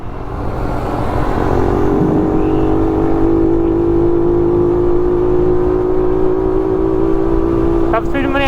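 A Rusi Raider 150fi motorcycle accelerating toward top speed on a ride from Manila to Baguio, a loud steady engine drone rising slowly in pitch under rushing wind noise, close by, with a voice briefly near the end.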